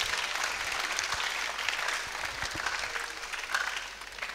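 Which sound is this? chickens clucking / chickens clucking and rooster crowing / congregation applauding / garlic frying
congregation applauding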